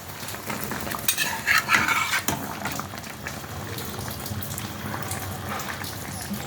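Pabda fish and eggplant curry is stirred in a pot, with clinking and scraping of a utensil against the metal over a bubbling, watery simmer at close range.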